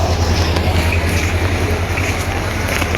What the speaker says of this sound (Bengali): 6 নম্বর প্ল্যাটফর্মে মাত্রই উপকূল এক্সপ্রেস ট্রেনটি এসে পৌঁছালো